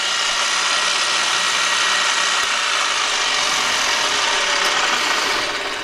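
A cylinder boring machine cuts through a Yamaha 701 personal watercraft cylinder, a loud, steady metallic grinding rasp that runs unbroken and close for the whole stretch with no voices over it.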